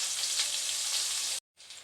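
Potatoes frying in a pan, a bright, steady sizzle heard up close, cut by a brief silent gap before it resumes.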